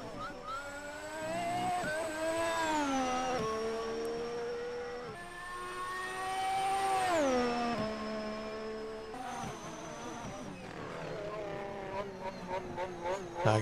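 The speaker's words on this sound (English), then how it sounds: "I can hear that Honda engine right there." A high-pitched Honda racing car engine revving and shifting through gears, pitch sweeping up and down, with other cars buzzing nearby in a game, at the Australian Grand Prix at Albert Park.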